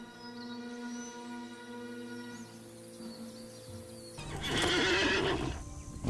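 A horse in the Rohan horse lords' encampment in the game LOTRO snorts and whinnies in a loud, rising neigh near the end, with clip-clopping hooves and soft ambient tones before it.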